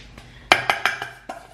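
A spoon clinks and taps against a bowl as dog cake batter with flaxseed is stirred, giving several sharp, close knocks at uneven intervals over quiet room tone.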